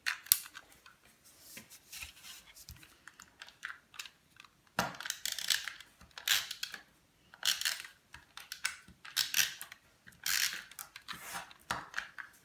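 A snail adhesive tape runner is pulled across card, giving a series of close, quiet ratcheting clicks and rasping bursts in irregular short strokes, with no talking over it.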